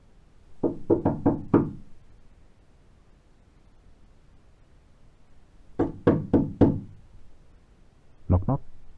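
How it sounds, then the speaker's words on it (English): Knocking on a door in three quick bursts of four or five sharp raps each, spaced by pauses, close and fairly loud over a soft background hiss. "Knock, knock."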